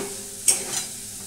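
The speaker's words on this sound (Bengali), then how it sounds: "এখন আলুটা ভাজছি" Potatoes frying in a pan, with a faint steady sizzle and one or two soft scraping stirs of a spatula, quiet and close with no talk.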